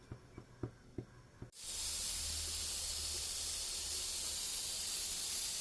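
A pressure cooker full of mutton for sukka gives a few soft knocks, then bursts into a loud, continuous steam hiss that holds steady to the end.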